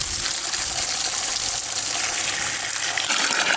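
Tap water runs in a steady, loud, close gush while potatoes are washed clean of caked soil, the stream hissing evenly without pause.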